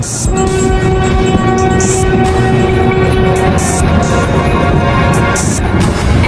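Train at a railway station, with a long, loud horn blast over the heavy rumble and clatter of rolling wagons, plus sharp metallic clanks, all close and continuous without voices.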